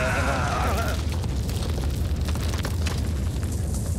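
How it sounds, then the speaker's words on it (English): An explosion in a generator room rumbles as a loud, sustained roar that fills the whole clip, with a brief tonal, voice-like sound at the very start. "Explosion in the generator room!"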